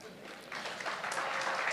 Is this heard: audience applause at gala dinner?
yes